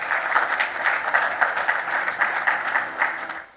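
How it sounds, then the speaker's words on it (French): Audience applauding at a closing ceremony for a best-stand trophy winner, a steady wash of many hands clapping at moderate distance for a few seconds. "Sous vos applaudissements."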